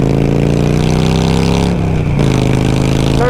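A Harley-Davidson Sportster fitted with loud aftermarket pipes pulls hard through a gear up a hill, its deep exhaust rumble rising steadily in pitch, dipping briefly at a shift around the middle, then climbing again, very loud and close.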